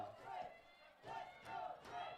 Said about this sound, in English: a little chant from the crowd now